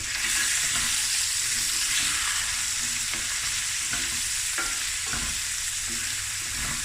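Lamb knuckle and rice are stirred in a hot pan, a continuous loud sizzle with occasional spoon scrapes and clicks cutting through, no talking.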